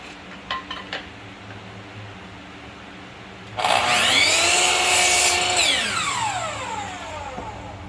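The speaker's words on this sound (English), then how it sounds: "I put them in a table saw, just made them 1/2 inch wide." Table saw ripping 2x4 wood into half-inch strips, the blade spinning up with a rising whine, biting loudly through the board for a few seconds, then winding down, preceded by a few short knocks.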